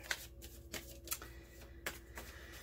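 Tarot cards being shuffled by hand in a quiet room, with soft papery riffles and several sharper card snaps spaced irregularly across a few seconds.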